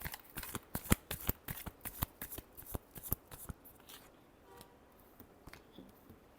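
Tarot cards are shuffled close up in a rapid run of crisp riffling flicks, loud at first and then thinning into a few softer taps, with no talking.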